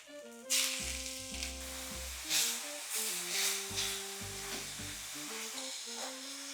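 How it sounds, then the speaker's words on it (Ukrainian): Steady oily sizzling of onion and garlic frying in oil in a pan, a bright continuous hiss with occasional crackles, under a low sustained musical tone. "Чуєте мене, смажимо, поки суміш не пожовтіє,"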